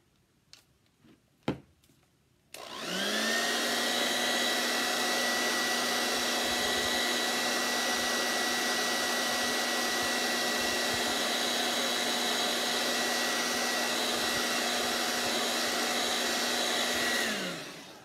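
A hair dryer blows over chalk art after a few small knocks, its steady loud whirring hum running unbroken for about fifteen seconds before switching off.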